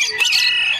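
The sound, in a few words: rooster crowing at Malabon pet market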